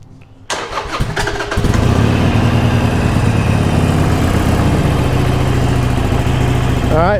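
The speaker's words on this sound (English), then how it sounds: "First thing we're going to do is start the bike." A Harley-Davidson motorcycle engine cranks and starts about half a second in, then settles into a loud, steady, close-up idle that lasts through the rest of the clip.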